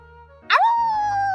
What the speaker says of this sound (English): He's just a regular pet dog.